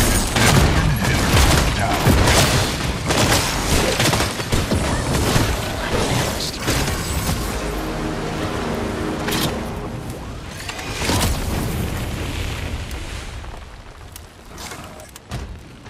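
A barrage of rockets exploding in the Predecessor video game, dense overlapping blasts and crashes rolling on for the whole stretch, loud and continuous with bursts of impact.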